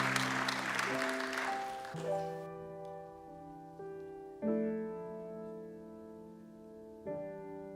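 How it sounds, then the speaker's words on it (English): An audience claps at a community interfaith Thanksgiving service; the applause lasts about two seconds and then gives way to sustained chords of organ-like music that swell at intervals. "Please clap"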